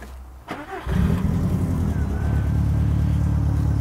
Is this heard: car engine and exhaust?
yes